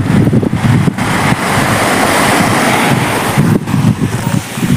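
Waves wash in and out on a Stanley beach shore in Hong Kong under heavy wind buffeting the microphone, a loud, rumbling surge with no voices.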